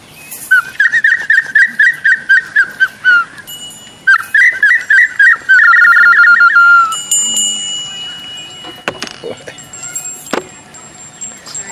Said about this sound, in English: It's got to start out with some bird sounds.